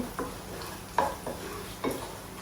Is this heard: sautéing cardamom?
yes